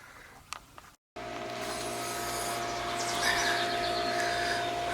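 Nitrogen gas flowing steadily through HVAC liquid and suction refrigerant lines during an evaporator coil replacement, a continuous close hiss with a low steady hum after a brief click and short gap.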